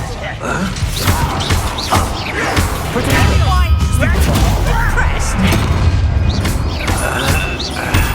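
An Incendio fire spell is cast in the video game Hogwarts Legacy, giving repeated booming thuds and crashing bursts within a dense, loud mix of game effects that continues throughout.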